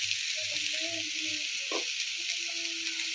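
Fish curry sizzles in a pan with turmeric and vegetables in little oil, giving a continuous bright frying hiss close by, with faint intermittent tonal sounds and a brief stir or clink in the middle.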